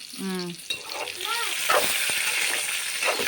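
Chana dal, green chillies and curry leaves frying in a pan, a steady sizzle with stirring, while a voice talks briefly near the start.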